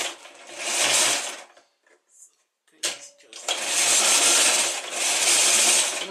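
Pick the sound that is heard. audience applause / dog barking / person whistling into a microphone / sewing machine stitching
sewing machine stitching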